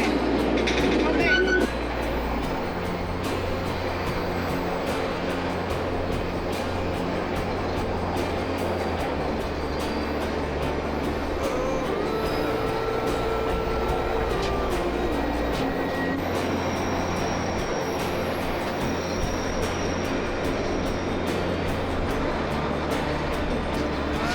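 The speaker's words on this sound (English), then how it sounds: "There's another train behind us too." A steady low rumble of a train rolling along the tracks, continuous and fairly loud throughout, with occasional faint squeals and rattles.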